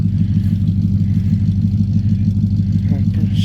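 A Chevrolet C10 truck engine idles steadily after a cold start, a constant low rumble throughout, close and fairly loud with no change in pace.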